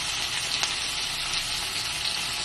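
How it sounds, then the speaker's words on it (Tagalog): Garlic and onion sautéing in a hot pan, a steady dense sizzle close and loud throughout with faint stirring, no one speaking. "Susutin natin yung bawang at saka sibuyas."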